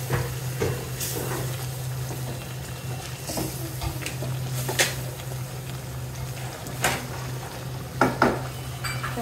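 Fish sautéing in oil in a pot, with a steady low sizzle and a hum running throughout, and repeated clinks and scrapes of a utensil against the pan, the sharpest knocks near the end.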